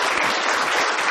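Hard round of applause from a medical workshop audience welcoming the board chair, a dense, steady wash of many hands clapping at close range with no voices over it.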